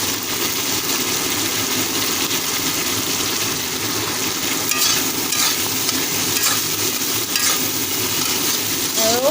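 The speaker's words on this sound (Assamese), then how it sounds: "আৰু এতিয়া এনেকৈ অকণ সময় ভাজি থাকিম, যাতে পটলৰ ভিতৰত মছলাখিনি সোমাই যায়।" Pointed gourd with boiled potato frying in spiced oil in a pan, a continuous close, even sizzle with occasional stirring scrapes and no talk.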